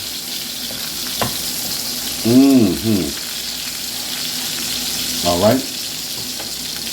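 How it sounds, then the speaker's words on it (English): Mushroom burger patties browning in a pan give a steady close sizzle throughout, broken twice by brief spoken words from a man. "I'm gonna brown them on both sides."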